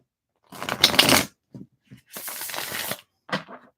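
Tarot cards are shuffled by hand close up, a long papery riffling burst, a few soft taps, then another extended rustling shuffle and a short final flutter, with no talking.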